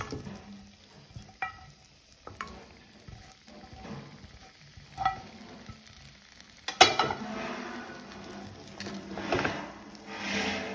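Fried chicken pieces sizzle and get stirred through a thick spicy paste in a pan, with sharp clanks of a utensil against the vessel and a louder burst of frying and scraping toward the end.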